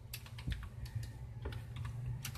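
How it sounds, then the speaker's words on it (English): Typing on a computer keyboard, a run of quick, crisp key clicks in irregular bursts over a steady low background hum, fairly close. "I might as well type something out here"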